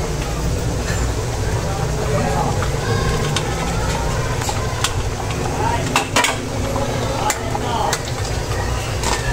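Dinuguan, a pork blood stew, being stirred in a pot, giving steady scraping and clinking of a utensil against metal over continuous bubbling and sizzling, with a voice speaking over it.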